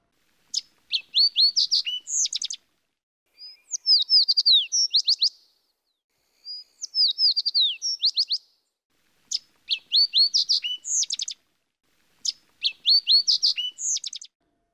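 A fox sparrow sings repeated bursts of bright, sweet whistled phrases in a steady pattern with short pauses, clear and close in an otherwise quiet setting.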